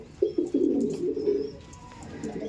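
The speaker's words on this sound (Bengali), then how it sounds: "আর দেখুন পায়রা দেখুন মস্তি করছে, দেখুন কালাঙ্কা পায়রা কত চাই দেখুন" Kalanka pigeons in a home loft coo in a run of low, throaty pulses close by, several birds overlapping before the calls fade to scattered softer coos.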